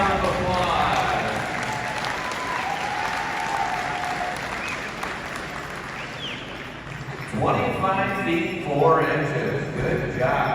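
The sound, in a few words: audience applause after a horse pull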